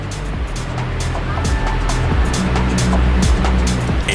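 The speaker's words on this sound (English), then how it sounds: "A 110-foot waterfall cascading down into a swim hole of cool water." The 110-foot Uluwehi Falls on Kauai plunges into a cool swim hole with a loud, steady roar of rushing water and a few faint clicks scattered through it.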